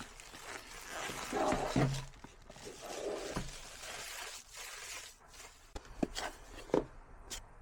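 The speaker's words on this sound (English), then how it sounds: "let's unwrap this" Packaging around a DJI Mini 4K drone is unwrapped close by, with crinkling, rustling bursts and a few sharp snaps and tears coming in irregular, uneven spurts.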